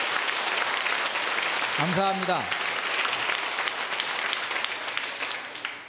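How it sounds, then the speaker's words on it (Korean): Church audience at a Catholic priest's Bible lecture applauding in a steady wash of clapping that fills the room, with a voice speaking briefly over it. "박수 한번 치세요."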